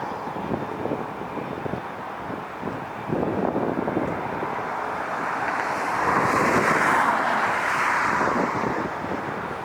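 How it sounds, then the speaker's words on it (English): An Asiana Airbus A380 slowly taxiing at LAX gives off a steady, distant jet engine roar that swells slightly partway through, mixed with wind buffeting the microphone. "Asiana A380 is still slowly taxiing over there"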